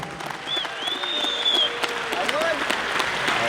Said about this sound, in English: I want you guys to please give him a round of applause